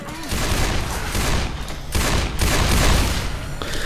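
Rapid bursts of pistol fire ring out in Left 4 Dead 2 during a zombie horde fight, loud and dense throughout with no pauses, layered over game noise.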